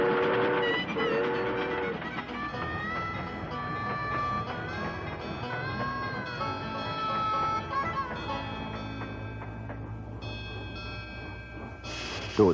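Train in an animated Christian cowboy film, rumbling steadily with tonal whistle-like blasts and rail clatter, a soundtrack-like mix ending in a sharp burst.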